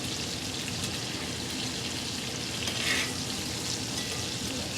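Ribeye steak sizzling in a cast iron pan while it is basted with garlic butter, a dense, steady frying hiss with a brief extra spatter burst near the end.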